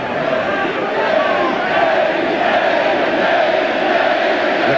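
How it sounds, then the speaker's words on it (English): Basketball arena crowd at an LSU versus Kentucky college game chanting a player's name in support, a loud, dense and sustained roar of many voices that holds steady throughout. "crowd obviously solidly behind Sutton with the Eddie Eddie chant"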